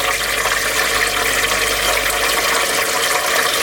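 The water pump of an Aerospring hydroponic indoor garden sprays water in a steady, loud, rushing hiss that runs unbroken throughout, with no voices.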